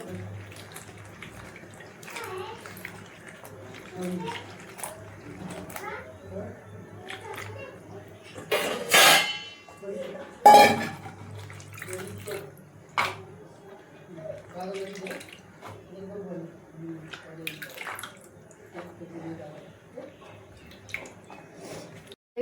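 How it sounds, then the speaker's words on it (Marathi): Water splashes and squishes as a ridge gourd is rinsed by hand, with a couple of louder splashes midway and a person talking throughout. "दोडका छान पाणी टाकून असं धुवून घ्यायचा मस्त"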